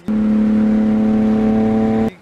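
A loud, steady, droning engine roar with a deep buzzing tone from a Lexus IS300 exhaust with the muffler removed, held for about two seconds then cut off abruptly, close by.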